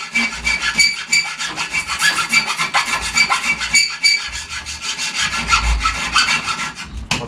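A hand file rasps against an old Union Dutch-style bicycle frame in rapid, even back-and-forth strokes, loud and close and continuing for several seconds with no speech.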